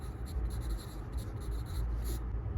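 Pen strokes of Hindi shorthand (Rishi system) scratching across paper, a quick series of short close scratches over a steady low room hum.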